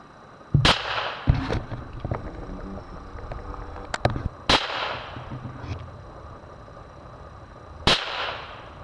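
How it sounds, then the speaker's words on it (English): Three sharp, loud gunshots from a J.C. Higgins Ranger .22 revolver crack at an outdoor shooting range, spaced several seconds apart, each with a brief ringing echo and faint clatter between shots. "this is my girlfriend shooting that same revolver"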